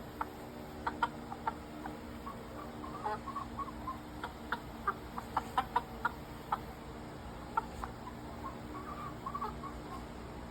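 Chickens cluck in short, scattered bursts, several birds close by with quick clucks and brief squawks over a quiet outdoor background, no one speaking.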